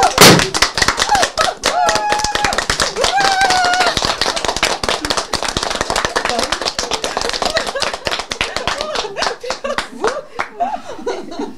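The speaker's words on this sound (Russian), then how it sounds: "прямо сейчас у нас прозвучит салют в честь наших победителей" Rapid, dense crackling bursts of a celebratory fireworks salute for award winners at a company forum fill the air continuously, mixed with cheering, whistles and voices from a crowd nearby.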